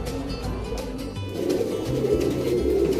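A Guldar pigeon pair, hen and male, coo close by in a loft, with low repeated throaty calls layered over a steady background hum, and no voices.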